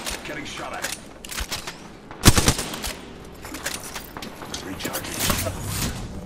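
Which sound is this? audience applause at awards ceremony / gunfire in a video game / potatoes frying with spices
gunfire in a video game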